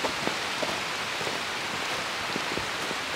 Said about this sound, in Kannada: ಹೆವಿ ಮಳೆ ಬಂದ್ಬಿಡ್ತು ಕೆಂಪೇಗೌಡ ವಿಷಯ ಶುರು ಮಾಡಿದ ತಕ್ಷಣ